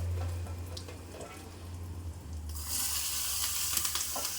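Green chillies, fenugreek seeds and asafoetida sizzle in hot oil for a dal tempering, a steady bright crackle that swells louder halfway through with a low hum underneath.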